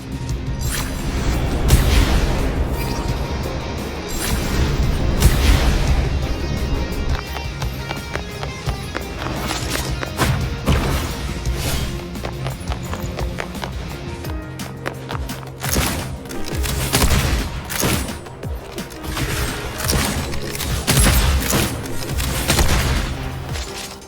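Combat in the game Wuthering Waves: rapid gunfire and booming blasts over a loud, busy action score, with repeated sharp bursts and dense percussive impacts throughout.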